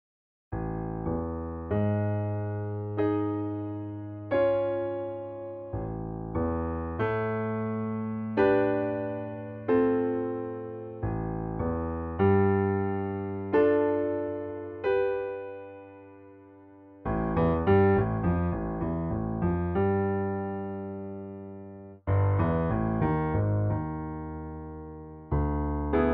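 A solo piano plays the intro as a string of clear, sustained chords and phrases, each fading slowly before the next starts, with denser repeated chord stabs toward the end.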